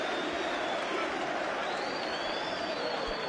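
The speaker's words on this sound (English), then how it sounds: "every single person is on their feet applauding" A boxing arena crowd on its feet applauding after a fight, a thick, steady roar of clapping and cheering with a commentator's voice running over it.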